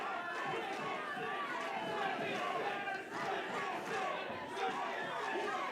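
A wrestling crowd at an independent show as Bobby Lashley squares off, with a dense, steady roar of many voices: cheering, shouting and chatter filling the whole stretch at a constant, fairly loud level, with only a slight dip midway.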